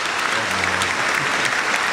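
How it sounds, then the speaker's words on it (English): Live audience applause after a performance on a radio show, a dense burst of clapping close by with a voice speaking briefly over it. "Clap that all the way up."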